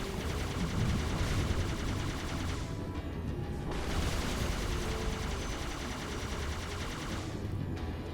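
A Ghost vehicle in Halo: Reach fires its plasma cannons at enemies in bursts of rapid loud shots, broken by brief pauses, against a busy battle backdrop with no talk.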